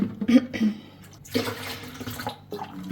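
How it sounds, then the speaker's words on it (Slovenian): Water being poured into a container to mix a protein shake with milk, banana and peanut butter, a near, splashy liquid pour in several short bursts with pauses between. "Postujem več vode."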